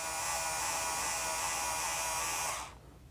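NAVAC NEF6LM electric flaring tool runs with a steady high-pitched motor whir and buzz, close and constant before cutting off abruptly near the end.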